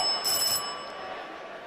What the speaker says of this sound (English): The bell had gone.